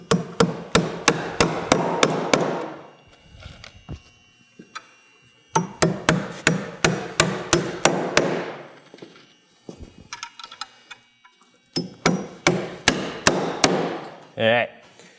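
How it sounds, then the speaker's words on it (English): Joist hanger nails driven into metal joist hangers during floor framing: three bursts of rapid, ringing hammer strikes, each a run of sharp close blows speeding up as the nail sinks, separated by brief pauses. "So we'll go and fill everyone"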